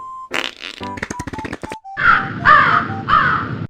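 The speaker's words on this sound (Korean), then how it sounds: "그것도 그냥 뿡 하는 방구가 아닌 뿌다다다다닥 푸르르 할 것 같은 듯한" A loud, rumbling sputtering fart sound effect in an animated comic story, a rapid burst of popping pulses followed by several drawn-out blasts, close and alone with no talk.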